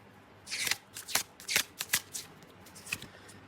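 Tarot cards are shuffled and drawn by hand in a quick run of crisp, close riffles and flicks that bunch together and then taper off, with no voices.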